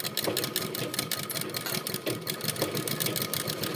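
A sewing machine runs steadily, stitching a kerchief at a slow, even pace in a beginner tailoring lesson, its rapid mechanical whir continuous and close throughout with no talk.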